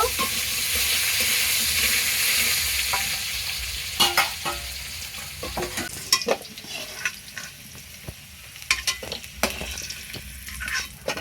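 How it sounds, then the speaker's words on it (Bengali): Potatoes fry in hot oil in a pan, a continuous nearby sizzle broken by scraping stirs and sharp clinks of the spatula, growing more sporadic in the second half. "আলুটা একটু ভালো করে ভেজে নেব একটু চাপা দিয়ে ভাজি"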